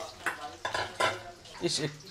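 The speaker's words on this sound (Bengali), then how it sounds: "এইদিকে ফ্রেঞ্চ ফ্রাইটা ভাজা চলছে" French fries frying in oil in a home kitchen give a faint, soft sizzle, broken by several quick stirring scrapes and utensil knocks against the pan.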